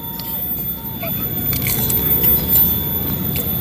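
Close, soft squishing and crackly chewing of chewy cow-skin cungkring satay eaten at breakfast, a few wet bites and chews with faint background hum and light clinks.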